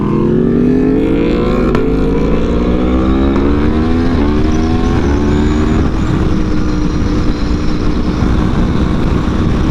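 Yamaha R6 sport motorcycle riding on the road, a loud, steady engine drone with the revs climbing through the gears, close and constant throughout.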